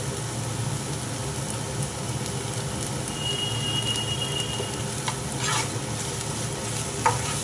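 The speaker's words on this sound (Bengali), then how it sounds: "দিয়ে ভালো করে আমি ভাজতে থাকবো" Spices frying in soybean oil in a pan, a steady close sizzle with continuous stirring and a few sharp utensil knocks near the end.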